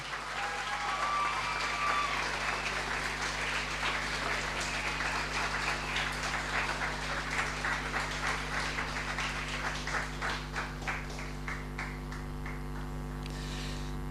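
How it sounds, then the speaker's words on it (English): Sustained applause from an audience in a hall at a high school IB graduation ceremony, steady dense clapping for awardees, with a low mains hum beneath and no talking. "Could you put your hands one more time together for all our awardees this evening?"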